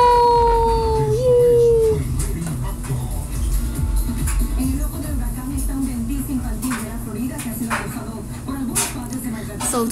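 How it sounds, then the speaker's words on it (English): A salt-and-pepper dog howls with a long sliding cry at the start, then whimpers in softer, fainter bursts over a low, steady background rumble. "It's a dog."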